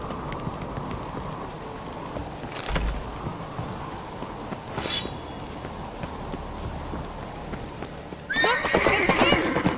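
In the video game The Witcher 3: Wild Hunt, horse hooves clop rhythmically under rain and distant rumbles; a horse whinnies near the end as the sound grows louder and busier.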